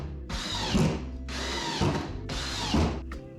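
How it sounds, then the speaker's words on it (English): A drill set to maximum speed drives drywall screws through a DeWalt Screw Setter, with three loud, even bursts of whirring, each ending in a brief ratcheting clatter as the screw seats. "Just set your drill at max and let the tool and the DeWalt Screw Setter do all the work."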